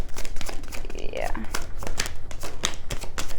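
Tarot cards are shuffled in quick riffling bursts, with a crisp flutter repeating as a voice talks over them.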